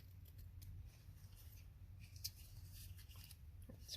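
Scissors snip a paper junk journal tag during a craft session, giving a few soft, quiet cuts over a low background hum.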